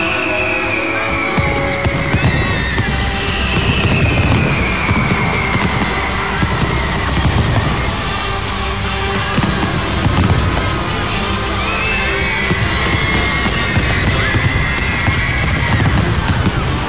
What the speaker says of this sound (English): the fireworks in the background